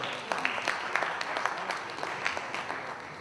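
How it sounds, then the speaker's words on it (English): A conference audience in a ballroom session applauds, a fairly steady crowd clapping heard from a moderate distance with no pause. "Please give a big round of applause for Mr. Deepak Jolly."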